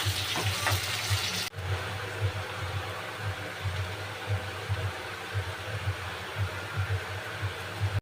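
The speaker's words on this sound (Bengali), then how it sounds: "হালকা একটু নুন দেব, দিয়ে এবার বাদামি করে আমি ভেজে নেব" Something fries with a little salt in a pan for mutton curry, browning in a steady, even sizzle and hiss, with a low background hum and a brief knock near the start.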